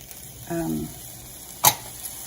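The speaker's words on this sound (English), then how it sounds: "So just some minced garlic, about 3 cloves worth, so heavy on the garlic. You can hear that sizzle." Minced garlic, about three cloves, sizzles in a pan for a Mexican street corn soup: a steady low hiss with a brief murmur early on and one sharp clatter partway through.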